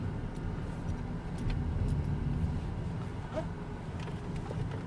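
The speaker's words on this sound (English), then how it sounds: "Let's pack it up and take it for a test drive." A Hyundai Elantra on a test drive gives a steady low engine and road rumble from inside the cabin, with a few faint clicks and rattles over the continuous drone.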